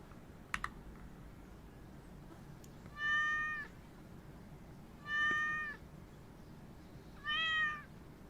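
Three meows from a cat in the pet shop simulator game Exotica 2, spaced about two seconds apart, each a short harmonic call over soft keyboard tapping and faint background hum.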